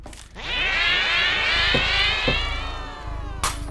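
A cat meows in the video game Be a Cat, one long, drawn-out, close and loud wail that bends in pitch, with a couple of brief knocks partway through and a short thump at the end.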